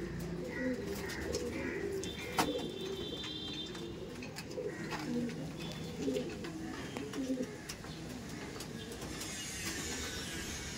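Giribaz pigeons cooing at a pigeon market, soft rolling coos repeating in short bursts among low background bustle, fairly faint and distant-sounding.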